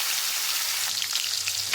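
Turmeric-rubbed rui fish pieces fry in hot mustard oil in a kadai, a dense continuous hiss and crackle with small pops, close and steady throughout.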